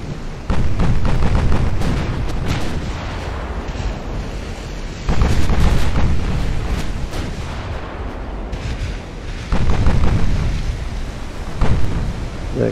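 A warship blows up from a flash fire in the naval strategy game Admiral Dreadnaughts, set in a 1910 Austro-Hungarian campaign: three heavy rumbling booms, each starting with a sharp burst and trailing into a long roar.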